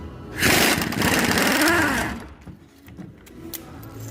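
An impact wrench working the front bumper bolts of a 2014–2018 Chevy Silverado, a loud close burst of rattling, whirring hammering for about two seconds that winds down, then quieter clinks.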